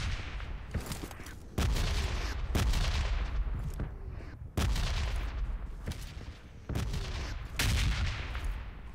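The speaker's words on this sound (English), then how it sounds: "I heard an M16." Repeated bursts of loud, close M16 rifle fire in PUBG Mobile, several sustained volleys with short gaps between them.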